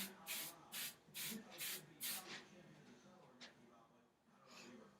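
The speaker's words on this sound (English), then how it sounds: "Now we are going to take some more hairspray." Hairspray is sprayed onto a young athlete's styled hair in a series of about six quick, sharp hissing bursts, then a couple of softer sprays, all quiet and close.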